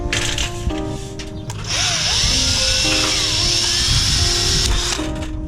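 A power drill whines at high pitch as it bores into metal roof fascia, preceded by short clicks and bursts, loud and close.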